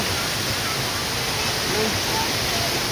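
A waterfall on a stream at Sittong pours as a loud, steady, unbroken rush of broadband water noise that stays constant throughout.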